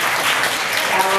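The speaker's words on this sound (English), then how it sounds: "Applause for this group." A workshop group gives a brief burst of applause, close and fairly loud, with voices mixed in over the clapping.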